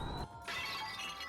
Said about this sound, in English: that default glass shatter sound